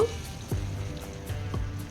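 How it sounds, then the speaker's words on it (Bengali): Potatoes and papaya fry in a little oil with turmeric, a soft, steady sizzle broken by a few low knocks as the pieces are stirred in the pan. "শুধুমাত্র হলুদ দিয়েই আমি বেশ কয়েক মিনিট নাড়াচাড়া করে আলু আর পেঁপেটাকে ভেজে তারপর তুলে নেব"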